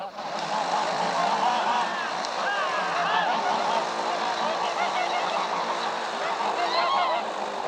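A dense flock of geese honking continuously on a film set, loud and close, their overlapping calls filling the air with a steady clamor.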